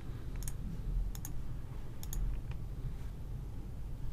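Computer mouse clicks while choosing notification settings, a few sharp paired clicks spaced about a second apart over faint room hum.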